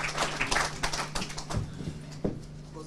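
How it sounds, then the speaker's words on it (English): A round of applause for the business community at a professionals and business engagement event with a politician in Gqeberha: scattered handclaps of moderate loudness, fairly thin and irregular, fading slightly toward the end. "we would want to put a round of applause for the business community"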